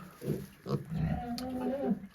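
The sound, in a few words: piglets eating from a feeder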